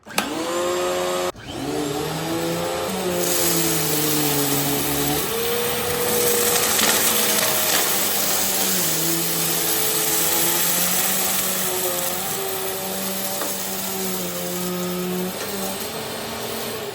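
A Bissell CleanView Swivel Pet Plus upright vacuum switches on with a click and runs with a steady, loud whine whose pitch shifts slightly as it is pushed across the floor.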